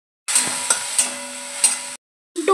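Masala being stirred in a pan with a spatula, giving a steady low sizzle broken by several scraping strokes, close and alone, then a short pause and a final scrape.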